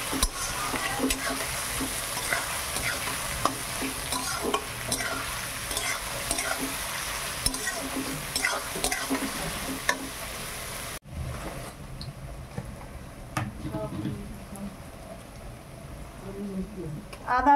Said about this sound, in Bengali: কুচানো পেঁয়াজ দিয়ে দিলাম।